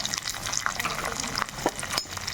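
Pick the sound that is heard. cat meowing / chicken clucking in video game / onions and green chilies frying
onions and green chilies frying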